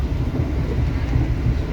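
An executive-class train on the Jakarta–Jogja line rumbles along the rails with a continuous low, heavy roar heard from inside, without pauses or distinct clacks.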